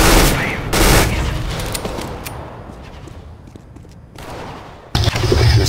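Rapid bursts of automatic gunfire in the video game CS:GO, loud and close, with a lull of quieter background sounds in the middle before the shooting resumes.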